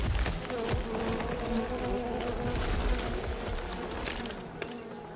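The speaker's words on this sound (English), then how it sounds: "Bees." Bees buzzing in a survival game set on a deserted island, a close, busy swarm drone with wavering pitch running throughout over faint ambient noise.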